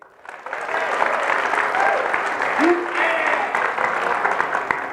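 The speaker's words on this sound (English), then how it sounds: "How'd that applause feel?" An audience at a university new student convocation claps loudly and steadily for about five seconds, with a dense, continuous wash of applause.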